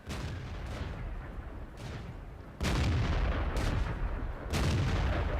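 Heavy tank cannon shots in World of Tanks from a tank destroyer, several booming blasts with long rumbling tails over a steady engine drone, one sharp close report standing out midway.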